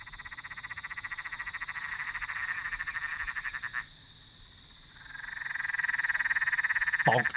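A big mountain tree frog gives a loud, close, pulsing croak that runs for several seconds, pauses, then resumes, ending in a short pebbly bonk over a constant high insect drone.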